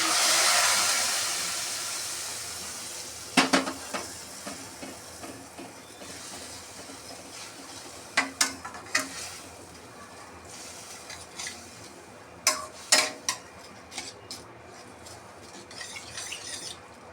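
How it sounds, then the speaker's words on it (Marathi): Milk poured into a hot pan of roasted vermicelli for kheer, giving a loud opening hiss and sizzle that fades to a steady low bubbling, broken by scattered clinks of a utensil against the pan. "याच्यामध्ये मी टाकणार आहे दूध"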